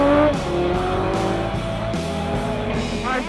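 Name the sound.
Honda CB1100RB motorcycle racing on closed road circuit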